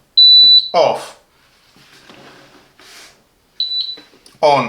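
Silvercrest SDI 3500 E1 double induction hob giving loud, clear electronic beeps on power-up: a sustained tone at the start and a short pair of beeps near the end, with a person talking between them.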